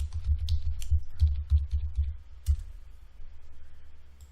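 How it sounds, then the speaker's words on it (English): A password being typed on a computer keyboard while setting up a Cisco SD-WAN controller, heard as a run of close, soft key clicks in an uneven rhythm that thin out toward the end. "Let me type the password that I assigned before."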